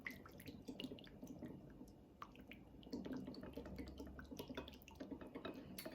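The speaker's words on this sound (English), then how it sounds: "whisk it around." Mango vinaigrette dressing is whisked in a bowl, making quiet, rapid wet clicks and liquid dripping sounds, faint and close without talk.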